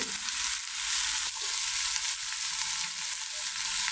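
Okra with onion, green chili and turmeric fries in a pan, giving a loud, continuous bright sizzle with one brief clatter partway through.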